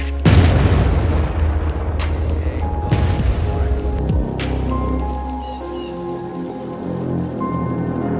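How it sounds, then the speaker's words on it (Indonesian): Artillery fires in a film war scene, opening with a heavy, close boom followed by rumbling, crackling debris, with a few more thuds and a low sustained rumble underneath. "artileri langsung ditembakkan"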